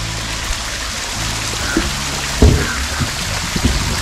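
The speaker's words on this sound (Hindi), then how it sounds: "ये देखिए यहाँ पर झरना टाइप का बना हुआ" An artificial waterfall at Kanpur Zoo gives off a steady, close rush of splashing water, with a few brief thumps and knocks mixed in.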